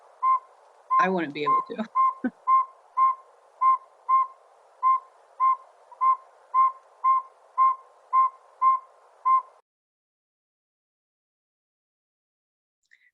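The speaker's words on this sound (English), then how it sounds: "This is the smallest North American owl." Repeated tooting whistles of the smallest North American owl, a small owl that eats mice and rodents, sound in a steady, evenly spaced series of about fourteen notes, clear and fairly close; a voice speaks briefly near the start, then silence follows.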